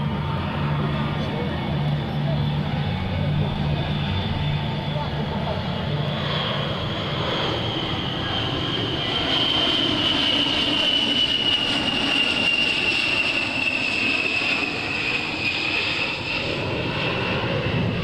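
An A-10 Thunderbolt II jet makes a slow speed pass at an air show open house, a loud sustained engine roar with a high whine that slowly shifts in pitch as it moves past, an announcer faintly underneath.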